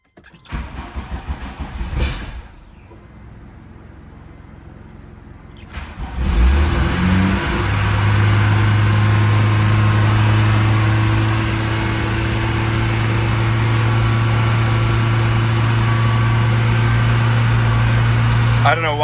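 A rebuilt 1986 Dodge Shelby Daytona cranks after a quiet pause, catches and roars to life, then settles into a loud, steady, high idle heard up close.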